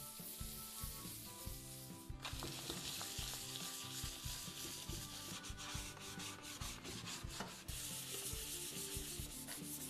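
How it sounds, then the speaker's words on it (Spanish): Rhythmic rasping of sandpaper rubbed back and forth over a wooden sideboard, quick repeated strokes, close and continuous with no voices. "Lo primero que vamos a comenzar es a lijar este aparador."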